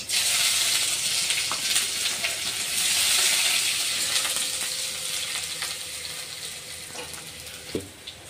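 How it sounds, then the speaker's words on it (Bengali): Chopped onion fries in a pan, a steady bright sizzle that gradually eases, with a couple of faint utensil clinks near the end. "তার জন্য আগে কেটে রাখা পেঁয়াজটা আমি ভেজে নিচ্ছি।"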